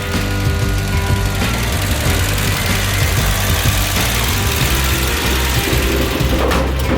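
A 1970 Plymouth Duster's slant six engine runs steadily at a close, even idle, a continuous low rumble with a slight knocking throb and no break for the whole stretch.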